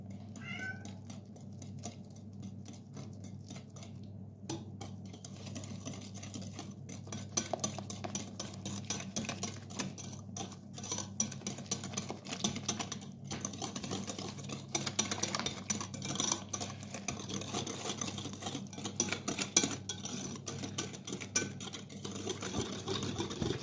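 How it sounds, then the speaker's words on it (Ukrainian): A whisk clicks rapidly and steadily against a bowl of 250 grams of sour cream, a continuous scraping rattle that grows slightly louder and keeps going for the whole stretch. "250 грам сметани. Збиваємо."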